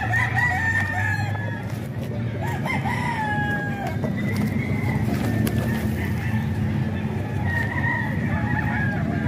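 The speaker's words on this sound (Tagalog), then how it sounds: "Gandang manok mga ka-idol." Mature chickens at a farm seller's pen, with roosters crowing repeatedly and hens clucking close by over a continuous barnyard din; someone talks briefly.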